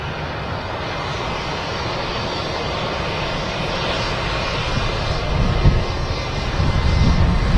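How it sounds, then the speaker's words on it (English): Airliner jet engines pass the ATC tower at Manchester Airport with a loud, continuous roar and whine that swells gradually, with no talk over it. "Great sound from those engines, nice whine as it goes past the ATC tower here"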